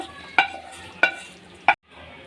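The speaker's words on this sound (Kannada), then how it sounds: "ನೋಡಿ ಈಗ ಕಾಳು ಹಾಕಿದ್ಮೇಲೆ ಒಂದು ಸಲ ಎಲ್ಲ ತಿರುಗಿಸ್ಬಿಟ್ಟು ಇದು 2 ನಿಮಿಷ ಮಳ್ಳಿದ್ರೆ ಸಾಕು" Avarekaalu beans fry in oil in a pot under a soft steady sizzle, while a spoon stirs with three sharp metallic scrapes spaced evenly apart.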